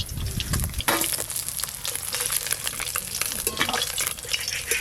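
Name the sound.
small fish frying in pan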